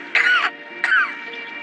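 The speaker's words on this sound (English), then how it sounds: "I gotta get you something for that cough." A child coughs twice in a harsh, throaty way, close to the listener, with a short pause between the coughs.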